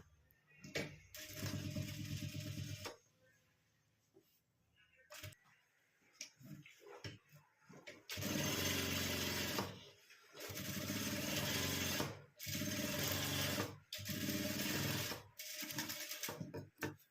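Domestic sewing machine stitching a seam on a fabric pouch made from blouse-piece cloth, running in repeated loud bursts of rapid mechanical whirring separated by short pauses and quiet handling sounds.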